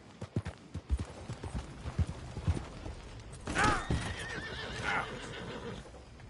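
In the video game Red Dead Redemption 2, hooves clop in an uneven run of hits, then a horse lets out a loud, wavering neigh with a shorter whinny following.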